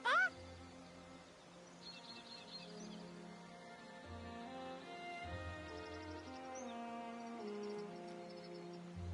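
A rooster clucks in the game Divinity: Original Sin II, opening with a brief loud call followed by soft, throaty bird chatter over low background music.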